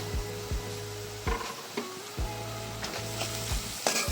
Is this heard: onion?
yes